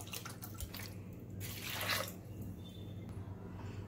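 Water poured into lentils in a cooking pot for dal makhani, a steady splashing pour that swells to a louder rush near the middle before easing off over a low background hum.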